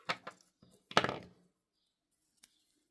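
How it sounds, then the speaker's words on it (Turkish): A few short snips of scissors cutting paper yarn during crochet work, quiet and close, with sparse clicks and near silence between. "İpimi birazcık uzun bırakıp kesiyorum"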